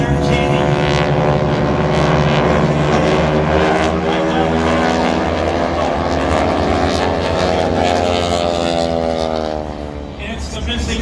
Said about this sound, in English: And it's the missing man formation.